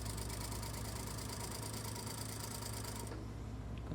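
Sewing machine stitching a collar seam with a quarter-inch allowance, a steady fast mechanical whir running continuously and close, then stopping near the end.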